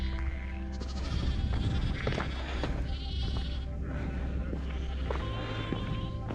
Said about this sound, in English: There's a lot of disgruntled sheep the other side of that fence.